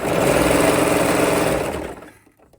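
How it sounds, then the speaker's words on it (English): A serger overlocks the inside seams of dress sleeves in a steady, loud mechanical whir that runs continuously for under two seconds, then winds down and stops. "we're just gonna line it up and then just serge both of those inside seams of the sleeve"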